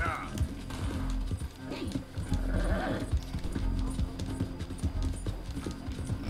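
Horse hooves clip-clop at a steady riding pace in Red Dead Redemption 2, rhythmic and fairly close under a German-speaking voice.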